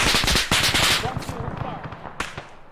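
Rapid automatic gunfire in the ArmA military video game, a dense burst of loud shots near and sharp, with a voice talking over the firing and a final single crack near the end.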